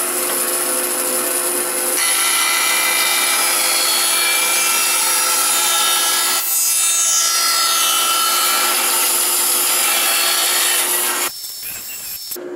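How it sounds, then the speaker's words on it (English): A bandsaw cuts square strips from a wood block, giving a loud, steady high-pitched sawing whine that runs for about eleven seconds before stopping abruptly, leaving quieter room noise at the end. "So I'm going to take it on my bandsaw and cut some pieces like this, square"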